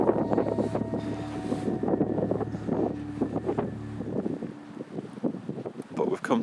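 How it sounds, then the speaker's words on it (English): Gusty wind buffeting outdoors near an old narrow gauge railway line at Rhydymwyn, rumbling low and uneven against the microphone, with a person speaking over it. "it's going to be quite windy this."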